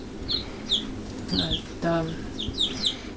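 Estonian landrace chickens cluck close by with a brood of newly hatched chicks, scattered short clucks mixed with repeated high peeping chirps in bursts over a low background rumble.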